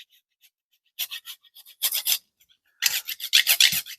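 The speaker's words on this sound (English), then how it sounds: "So now I'm grating in some nutmeg" Whole nutmeg is rubbed against a grater for a garam masala spice blend: close, dry rasping strokes in quick clusters separated by short silences, growing busier toward the end.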